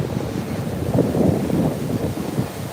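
Wind and surf at a beach where people swim in the ocean, with a low rumbling wash of waves and microphone wind buffeting that swells in the middle, no voices.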